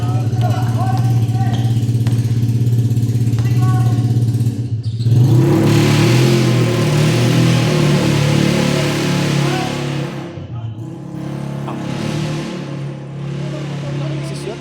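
A motorcycle engine idles with a low throb, then revs hard into a loud roar and falls back in bursts, with people talking nearby.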